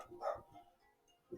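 A puppy barks in the retro video game Mother, a short, faint, low-fidelity yip followed after a pause by a second brief bark.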